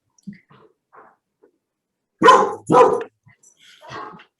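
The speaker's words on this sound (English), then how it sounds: "Sorry, that's my dog." A dog barks twice in the background of a remote committee meeting, two loud, close, quick barks in the middle, with faint scattered voices and small sounds before and after.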